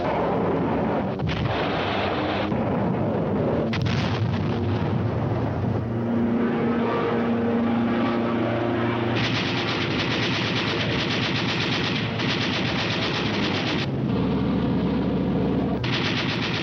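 Wartime newsreel soundtrack of machine-gun strafing and rocket fire on Japanese industrial plants in Kyushu: loud, dense bursts of rapid gunfire and booming blasts, with aircraft noise running continuously through the whole stretch and no talking.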